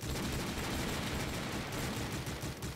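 Rapid dense gunfire in a Minecraft Call of Duty mod, a continuous crackling barrage of shots at steady loudness with no voices.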